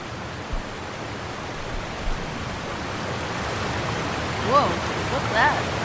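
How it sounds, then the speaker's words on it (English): A small waterfall in The Last of Us game rushes as a steady broadband wash throughout, with a couple of faint brief chirps near the end. "At the top of this little waterfall."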